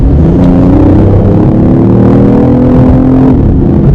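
A BMW i8 plug-in hybrid supercar gives a loud, steady engine drone with a slight rising and falling pitch, heard close and alone with no talk.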